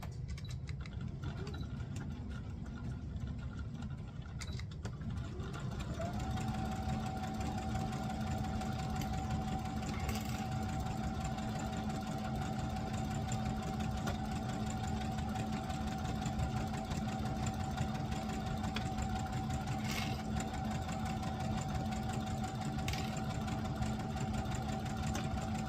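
A sewing machine stitches the second sleeve of a Simplicity 9136 garment, a steady close mechanical whirr that runs continuously after a brief start, with no talk.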